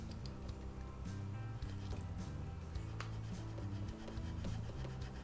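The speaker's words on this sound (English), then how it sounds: "we use a sanding stick here on this area to make sure we're down to the raw wood" Quiet, steady rubbing and rasping of a sanding stick on the raw wood of a 1979 Gibson L6S guitar neck joint, continuous back-and-forth strokes close by with a faint hum beneath.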